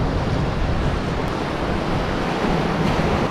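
Atlantic waves wash and break against the shore in the Azores in a continuous, broad rush of surf with some wind noise, no voices.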